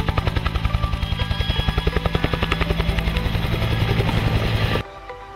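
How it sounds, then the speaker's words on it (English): A toy helicopter's sound effect, a fast regular rotor chop over a steady electronic whine, loud and close, that runs continuously and then cuts off abruptly near the end. "Helicopter."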